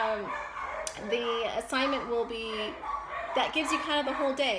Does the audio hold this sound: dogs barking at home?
yes